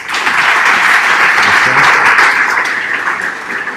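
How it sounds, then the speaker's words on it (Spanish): Loud, dense audience applause in a conference hall at a developer event in Medellín, a steady wash of many hands clapping that tapers slightly toward the end. "Un aplauso para él."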